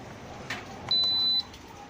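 A Hitachi tower fan gives one clear electronic beep, held for about half a second, as its timer button is pressed; a soft click comes just before it, and the sound is close and isolated over low room noise.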